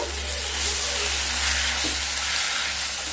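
Spices, chilli powder, ginger paste and salt sizzle in a hot frying pan while being mixed, a steady dense frying hiss close by with faint stirring scrapes, no voices.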